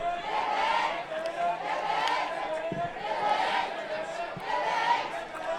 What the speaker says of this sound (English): we've got the crowd cheering for Quebec